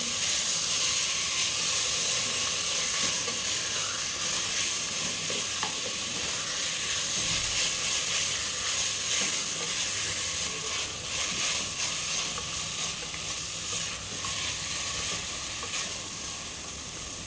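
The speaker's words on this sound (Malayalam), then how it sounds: "ചിക്കൻ ചേർത്ത് കൊടുത്തതിന് ശേഷം നമുക്കിതൊന്ന് ഇളക്കി കൊടുക്കാം." Chicken pieces sizzle steadily in a hot pot for chicken soup, a close, even frying hiss with occasional scraping and clinks as they are stirred, and no voices.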